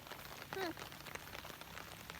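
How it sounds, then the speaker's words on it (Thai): Rain falls steadily outdoors on a rural Thai farm during sugarcane planting, a faint, even hiss with a brief high chirp near the start. "ฝนตกพี่น้อง"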